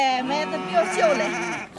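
Sheep bleat in a pen on a farm, several wavering, nasal calls close by and loud, overlapping across the short stretch with no talk.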